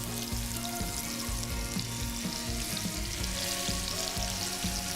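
Vegetables sizzle and crackle steadily in a hot pan with braised pork for a pork ragu, a loud, continuous frying hiss with scattered pops and low clunks of pieces dropping in, no voices present.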